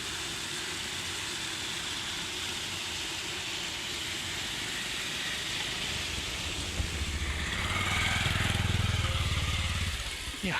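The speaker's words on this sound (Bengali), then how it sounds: "এই হাই রিক্সে মোটরসাইকেল পার হয়।" A motorcycle crosses a bridge in a village setting, its engine swelling louder and nearer toward the end over a steady outdoor background.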